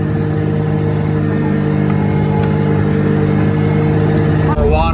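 A car drives over rough underground terrain on a tire filled with sealant. A steady engine drone with a constant hum runs throughout, and a sharp shift near the end brings a rattling, bumpy texture.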